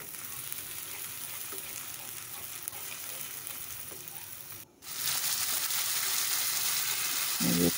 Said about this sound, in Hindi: ये प्याज माशाल्लाह से हमारी अच्छी तरह फ्राई हो चुकी है, भून चुकी है अच्छी तरह से